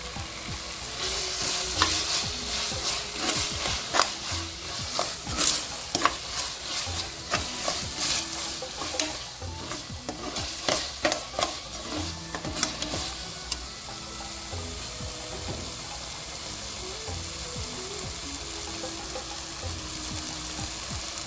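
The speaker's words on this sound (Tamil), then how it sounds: "இந்த அளவுக்கு வதங்கிக்கணும் தக்காளி. நீ பார்த்தீங்கன்னா புதினா கொஞ்சம் சேர்த்துக்கலாம்." Tomato and mint are sautéed in a pan for mushroom biryani, a steady sizzle with repeated stirring scrapes that are busy at first and then settle into even frying.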